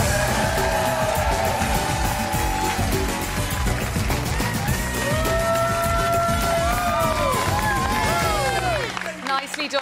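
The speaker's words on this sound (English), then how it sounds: "Round of applause for Davy and" A studio audience at a dance competition semifinal claps and cheers loudly after a Viennese Waltz, with crowd noise and music running throughout.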